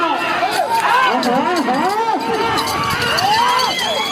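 A crowd at a village bull-pair competition shouts and cheers loudly, with many overlapping excited voices rising and falling continuously, close and dense throughout.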